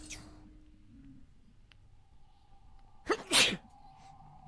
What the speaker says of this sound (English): That sneeze.